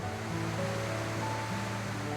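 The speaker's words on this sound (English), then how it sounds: "it's a fairly magnificent waterfall" A large Idaho waterfall swollen with early-spring runoff, throwing heavy spray: a constant, dense roar of rushing water, loud and close, with no voices.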